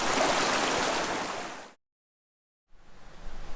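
A creek flowing through a canyon, a steady broadband rushing hiss that cuts abruptly to silence, then returns fainter with low wind rumble.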